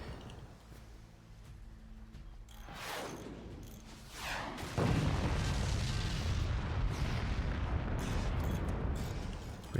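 Artillery fire in the real-time strategy game Forts: loud booms and whooshing shots build into a dense, continuous roar of barrage that dominates the second half.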